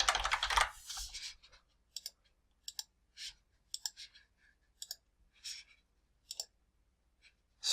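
Typing on a computer keyboard, close and clear, comes in short bursts of clicking keystrokes separated by brief pauses.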